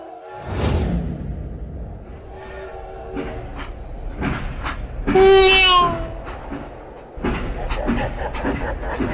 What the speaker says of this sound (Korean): 기차가 왜 이래.